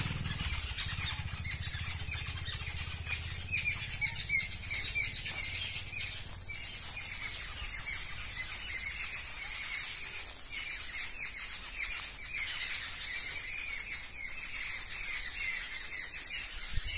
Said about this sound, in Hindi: और हरे भरे पेड़, बांस के वृक्ष और चहचहाती हुई चिड़ियाँ